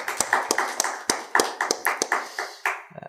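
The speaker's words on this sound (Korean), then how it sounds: "귀한 찬양 인도한 우리 찬양단 위하여서 다시 한번 격려의 박수하도록 하겠습니다." A church congregation claps rhythmically for the worship team at a Sunday evening service, a steady run of about a dozen sharp, fairly close hand claps that fade out at the end.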